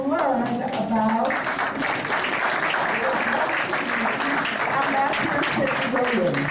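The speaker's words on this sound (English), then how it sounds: "You're applauding him." An audience at a speaking event bursts into warm sustained applause, dense clapping filling the room at close range with voices mixed in.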